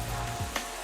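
Onion and garlic fry in a pan with a soft, continuous sizzle for a brief moment, faint and close.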